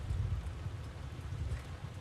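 Steady dense hiss of rain with a low rumble underneath, constant and unbroken throughout, no voices.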